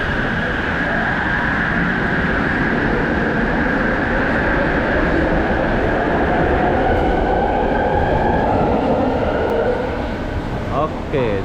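Loud continuous rumble and roar inside an underground LRT light rail train in motion in Malaysia, with a high whine running throughout and occasional faint rattles.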